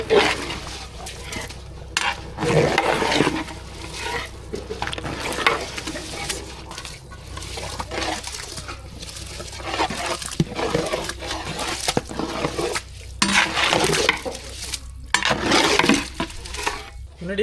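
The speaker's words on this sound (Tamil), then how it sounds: "அரிசி சேர்த்தாச்சு நல்லா கலந்து வச்சுக்கலாம்" Rice being stirred into chicken biryani masala in a pot, with repeated scraping and clinking strokes of a spoon against metal at an uneven rhythm, close and moderately loud, with a soft background sizzle.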